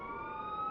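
Police car sirens passing by, a steady wailing tone held loud and alone through a brief moment, with no talk.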